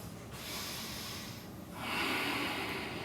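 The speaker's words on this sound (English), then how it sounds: "3 deep breaths." Deep, steady breaths during an intense power yoga session, with a long inhale-exhale cycle of airy, hissing breath close to the mic and a louder rush of breath in the second half; no talking.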